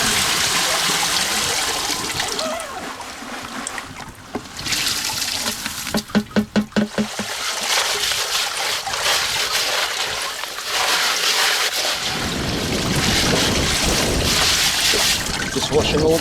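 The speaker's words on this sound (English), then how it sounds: "Just washing all the finer materials down into the next sieve." Water sluices fine gold-prospecting material through stacked sieves in Western Australia, a loud, steady rushing and splashing with brief gurgles and a rattling burst midway, continuing nearly throughout.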